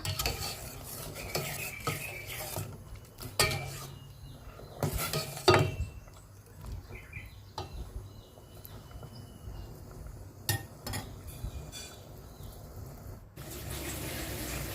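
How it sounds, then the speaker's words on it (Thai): Seasoning being stirred into boiling water in a pot for a Thai sour fish soup, with intermittent spoon clinks and scrapes against the pot over a low bubbling simmer, close and unaccompanied by talk. "พอน้ำเดือดดีแล้วเราก็เอาเครื่องปรุงลงไปค่ะ แล้วก็คนเครื่องปรุงให้ละลาย"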